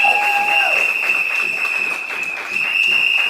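An audience applauds during an online meeting: a steady wash of clapping runs throughout, with sustained electronic tones over it.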